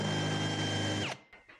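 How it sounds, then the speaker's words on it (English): A power drill whirs steadily while running in reverse on a wooden hole saw Christmas ornament, then winds down and stops, followed by a couple of faint knocks. "Run your drill in reverse,"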